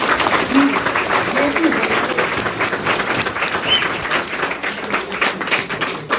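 Steady applause from an audience honoring teachers fills the clip, dense and continuous, with a bit of background chatter mixed in.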